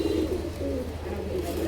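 Running pigeons coo in low, repeated throaty calls, close and fairly quiet, over a faint steady background hum.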